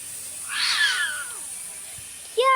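A cat meows in the Lost in Play video game, one clear drawn-out meow followed by quiet, with a sharp rising tone starting at the very end.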